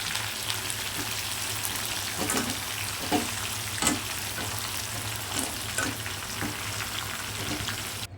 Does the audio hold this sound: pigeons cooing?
no